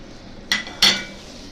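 Molokhia with coriander being stirred in a pot, with two sharp metallic clinks of a spoon against the pot rim, close and fairly loud, over a quiet kitchen background.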